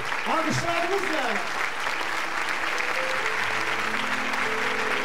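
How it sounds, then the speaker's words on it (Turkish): An audience at a concert in Norilsk breaks into steady, loud applause that fills the space, while someone speaks over the clapping. "Alkışlarımızla."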